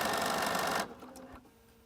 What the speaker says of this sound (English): I'm just going to use the automatic start-stop button here. And it's just going to go ahead and sew.